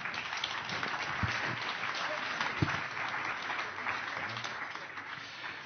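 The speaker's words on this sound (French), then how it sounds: "On peut vous applaudir" An audience at a talk on metropolitan landscapes breaks into steady, sustained applause, a dense wash of clapping that holds evenly throughout with a few louder individual claps.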